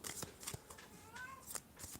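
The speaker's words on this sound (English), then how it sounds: "can you guys hear the cat? She's being very vocal right now." A cat gives a faint, rising-and-falling meow at moderate distance, heard amid soft rustling and light tapping noises in a quiet room.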